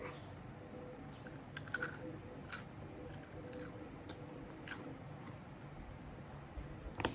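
Crispy baked cheese snack being chewed close up, with quiet, irregular crunches and bites over a faint background hiss.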